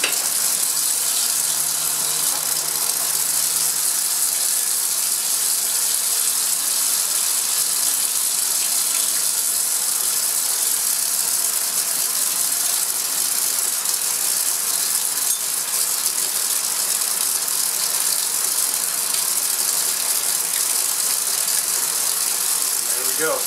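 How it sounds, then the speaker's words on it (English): A steady, loud mechanical hum and hiss drones on continuously without change from a vacuum pump running close by for lab filtration of benzoic acid. "And I'll turn on the vacuum, and we will get this thing filtered."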